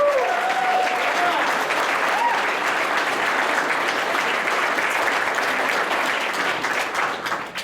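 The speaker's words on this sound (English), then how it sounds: "Let's have a round of applause." Steady audience applause at a tribute event at Rushford Center, dense and sustained for several seconds, with faint voices and a brief whistle or call near the start, tapering slightly at the end.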